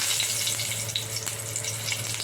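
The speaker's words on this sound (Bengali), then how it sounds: "প্রথমে কড়াই তেল দিয়েছি, এবার একটুখানি দিয়ে দেবো গোটা জিরে" Steady crackling sizzle of whole cumin seeds frying in hot oil in a wok, close and continuous with small popping bursts.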